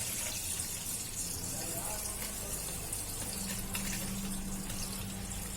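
Water pours steadily into a container of jaggery for making bioenzyme, a continuous close splashing rush with a rising tone as it fills.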